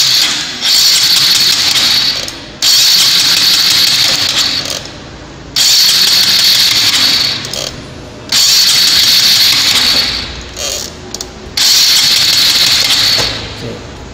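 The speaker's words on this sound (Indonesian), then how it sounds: "Kunci kontak on, gas kita tarik penuh, kemudian kita nyalakan." An engine is cranked repeatedly by an electric starter with the throttle held fully open for a compression test, giving four loud, close whirring bursts of several seconds each, separated by short pauses.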